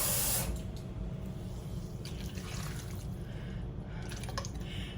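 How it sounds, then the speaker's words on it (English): Water pours from a can into a pot of vegetable soup, a close splashing gush that starts strong then settles into a steady trickle with a few brighter spatters, no one speaking. "I'm going to add a little bit of water, about a half a can of water."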